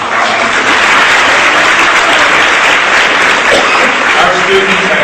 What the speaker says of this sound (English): How about another nice round of applause for